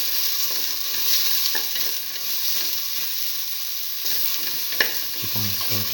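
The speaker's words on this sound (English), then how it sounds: "keep on sauteing." Black lentil and ash gourd curry sautéing in a pan gives a steady, close sizzle with occasional stirring scrapes and clinks, no voices.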